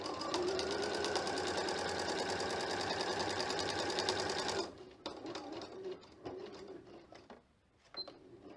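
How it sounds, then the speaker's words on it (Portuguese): A sewing machine fitted with a walking foot sews a sewing machine cover, running in a fast, even, close whir for several seconds before stopping, leaving quiet handling noises. "com o pé facilitador, que é conhecido também como walking foot, você faça a costura com bastante leveza"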